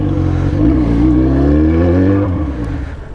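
A motorcycle engine runs loud and close, its pitch climbing as it revs, holding high, then easing back down, with no voices.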